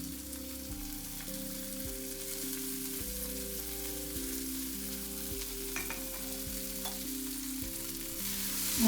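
Chopped onions, onion greens and green chillies frying in oil for a Gujarati winter vagharelo rotlo, a steady soft sizzle with occasional stirring scrapes in the pan, close and moderately quiet throughout.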